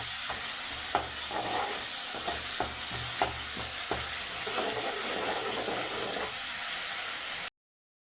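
Chopped onions and curry leaves sauté in a pan for Madurai pepper chicken, giving a continuous soft sizzle broken by scraping stirs and light spatula knocks, before the sound cuts to silence at the end.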